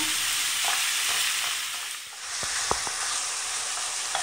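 Minced meat and tomato sauce cook down in a pan with a steady broad sizzle, broken by a few faint scrapes and clicks of stirring.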